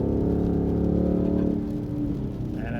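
A 2018-2023 Ford Mustang GT V8 fitted with an AWE Touring Edition cat-back exhaust revs up from inside the cabin, a deep, steady rumbling drone that rises and then eases as the throttle settles.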